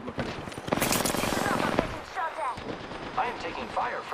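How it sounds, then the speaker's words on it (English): Rapid automatic gunfire bursts in the Apex Legends shooter game fill the first two seconds, followed by quieter game voices and effects. "I am taking fire, friends. Opening fire on the enemy."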